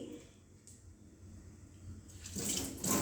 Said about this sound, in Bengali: আমি আবার একটু এভাবে জল দিয়ে দিই